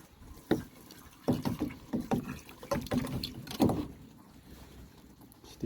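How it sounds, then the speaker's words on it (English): Water from an aquaponics tank running back down the overflow pipe, an uneven gurgling and splashing in irregular surges, fairly close and alone. "water going back down the overflow"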